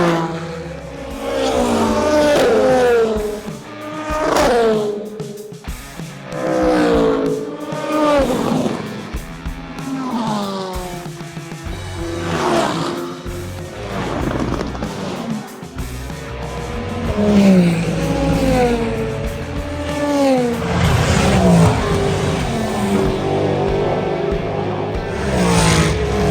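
Hypercars roar past one after another at the Le Mans 24 Hours, loud engine notes rising and falling in repeated close passes over a continuous trackside din.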